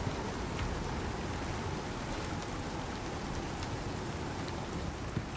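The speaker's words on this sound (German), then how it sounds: "Und dem Regen." Steady, dense rain from the survival game Icarus falls continuously throughout, a close, even hiss of drops with no voices over it.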